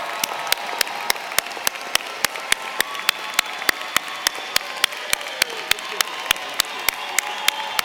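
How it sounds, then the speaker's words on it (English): Round of applause for graduates at a university public health commencement ceremony, heard as sharp, evenly spaced claps in a steady rhythm over a soft crowd background. "let's give our graduates another round of applause"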